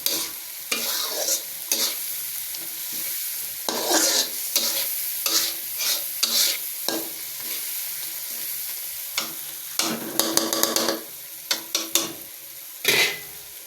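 Bottle gourd vegetables stirred and fried in a pan, a steady sizzle under irregular bursts of spatula scraping and clattering against the metal, close and fairly loud with no talk.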